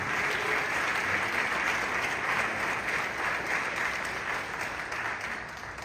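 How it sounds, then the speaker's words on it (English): Sustained, dense applause fills a convention hall from an audience at a Democratic National Convention Asian American and Pacific Islander caucus meeting, steady and loud throughout before easing slightly at the end. "Let's give this amazing audience a welcome round of applause"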